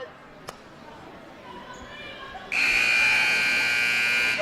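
A loud, sustained buzzer blares in a big arena at a girls' basketball game, cutting abruptly over a murmuring crowd, preceded by a single sharp ball bounce.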